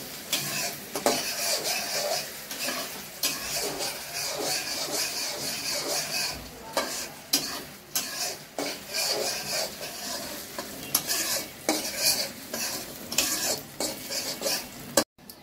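Chopped onion fries in a pan with whole garam masala while a spatula stirs it briskly, giving repeated scraping and metal-on-pan clatter over a constant nearby sizzle.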